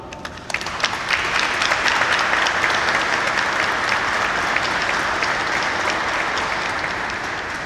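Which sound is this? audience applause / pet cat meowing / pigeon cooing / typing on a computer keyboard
audience applause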